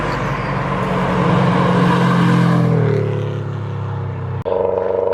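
Stripped-out Subaru Impreza time attack car with a 2.1 stroker engine and screamer pipe, heard from inside the cabin as a loud, steady drone that shifts down in pitch partway through, then a sudden change in tone near the end.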